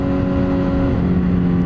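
A motorcycle engine roars steadily while riding, a loud continuous drone with wind noise, heard close and alone.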